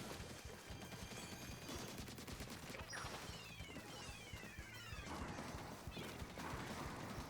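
Rapid gunfire and splattering hits from the video game Splatoon 3, a dense, busy stream of bursts with sweeping effects and crashes running continuously at moderate level.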